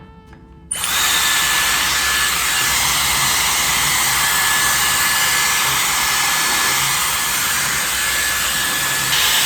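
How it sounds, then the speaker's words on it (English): Dyson Airstrait hair dryer switching on and blowing hot air while drying hair at the roots, a loud, steady, close whooshing roar with a high whine that runs unbroken after a brief quiet start. "I want to start by drying my roots a little"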